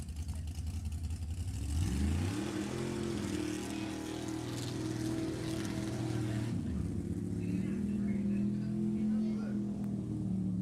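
An unlimited small tire drag racing car revs loudly at a Sacramento match race, its engine pitch rising and falling in long sweeping pulls over steady crowd and track noise, with an announcer faintly audible.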